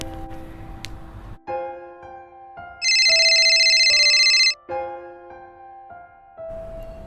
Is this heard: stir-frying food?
no